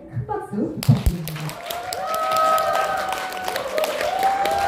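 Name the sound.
audience applause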